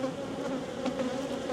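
Honeybees buzz steadily inside a neglected nuc box, a close, continuous, dense hum that stays even throughout with no voices.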